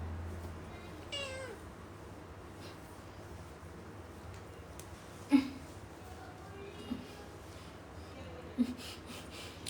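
Pet cat meowing a few times, short distinct meows scattered over a quiet room with low background hum, with a person talking softly in between.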